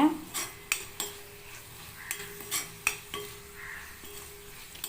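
Potatoes sautéing in a pan, with a spoon scraping and clinking against the metal in a loose rhythm over a soft sizzle.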